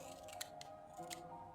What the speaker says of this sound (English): My shiny pair of scissors should make quick work of this.